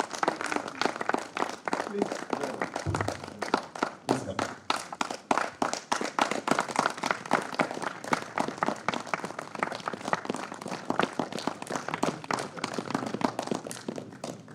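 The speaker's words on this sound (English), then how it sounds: "Can we have a round of applause for them?" An audience at a national conference of radiographers and technologists applauds, with dense, steady clapping sustained for the whole stretch and a brief spoken invitation near the start.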